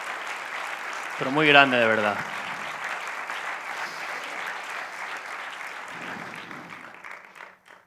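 Sustained audience applause fills a conference hall during a talk on recovering from addiction, steady and fairly loud throughout, with someone speaking over it and the clapping thinning out near the end.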